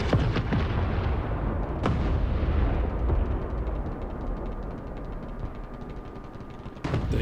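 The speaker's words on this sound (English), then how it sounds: "Drop some arty, just in case they're coming." Artillery barrage in War Thunder, with heavy booming impacts and rumbling blasts, several sharp cracks standing out over a dense, continuous low roar of explosions, loud and sustained.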